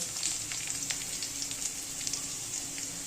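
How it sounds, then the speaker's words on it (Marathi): Garlic tempering crackles in hot oil in a pan with browning onions, a steady close sizzle with scattered pops and spits throughout, no voices. "आता थोडा लसणाची फोडणी देते मी."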